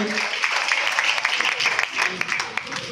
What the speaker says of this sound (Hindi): बिल्कुल सही उत्तर, जोरदार तालियां होनी चाहिए।